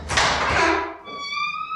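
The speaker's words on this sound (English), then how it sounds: "As the doors at the end of the throne room opened," Heavy throne room doors open with a deep booming thud and a rushing swell, then a bright sustained ringing tone hangs in the air as the sound fades.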